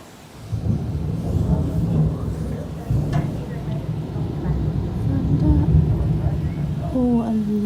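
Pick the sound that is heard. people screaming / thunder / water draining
thunder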